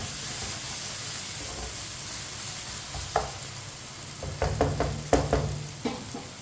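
Spinach cooks in a pan with a low, continuous sizzle and hiss, joined later by a few sharp scraping and stirring knocks against the pan, close and fairly quiet with no talking.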